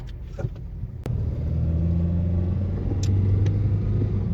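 A Honda CR-V accelerates on a test drive. A sharp click is followed by the engine's low rumble swelling up and holding strong and steady from inside the cabin.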